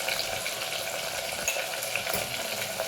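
Spices and salt being stirred into vegetables frying in a pan, a soft steady sizzle with a few faint scraping touches, quiet and alone.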